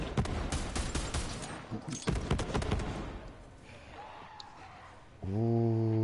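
Rapid gunfire from Borderlands 3 on PS4, with dense bursts of shots and thumps in the first half that fade into quieter game sounds, then a sustained tonal hum at the end.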